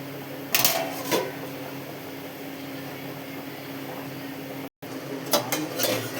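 Lid set onto a cooking pot of prawn and Malabar spinach curry on a home kitchen stove, a couple of sharp metallic clanks over a steady background hum, with a brief dropout.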